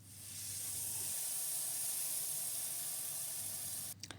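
Beef roast searing in olive oil in a frying pan, a steady broad sizzle and hiss holding for nearly four seconds before cutting off sharply near the end.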